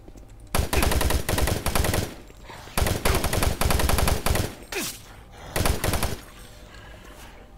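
Rapid automatic gunfire from weapons in the video game Doom 3, loud bursts in three long volleys separated by short pauses, with no talking.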